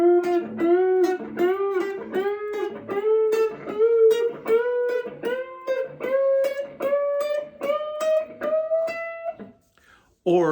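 Electric guitar string bends played at full speed, a rapid run of about twenty bent notes with pitch steadily climbing, loud and close, ending with a brief pause.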